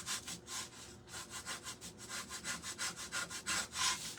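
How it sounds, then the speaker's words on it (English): A metal scraper scraping wax off a craft pumpkin makes a close, rhythmic series of raspy back-and-forth strokes, about four or five per second, steady throughout with no voices. "I'm just trying to scrape away some of those areas where I had that wax"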